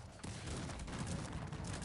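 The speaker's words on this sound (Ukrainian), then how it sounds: "Настрілюю, зараз буду настрілювати гарматами." Cannon volleys in the video game Cossacks 3: a dense, continuous roar of overlapping booms and crackle, loud and close, with no pause through the clip.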